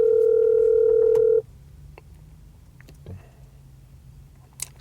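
A single steady telephone ringback tone sounds loud and close for about a second and a half while an unanswered call is placed, then cuts off to quiet room noise.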